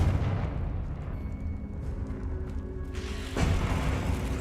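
A rumbling explosive blast from the Confringo spell in Hogwarts Legacy, a deep booming burst that rolls on, then a second sharper impact near the end, fairly loud.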